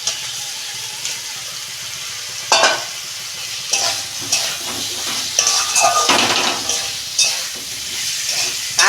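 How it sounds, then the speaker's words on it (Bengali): Fried potatoes stirred into a pan of sizzling, cooked-down spice masala for aloo dum, steady frying hiss with repeated scraping stirs of the spoon against the pan. "এই আলুটা আমি দিয়ে দিচ্ছি, ভাজা আলুটা"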